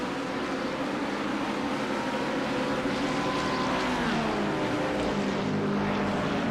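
A GT3 race car accelerating at Imola in the iRacing video game, a steady, loud engine drone whose pitch climbs and shifts through gear changes, close and continuous.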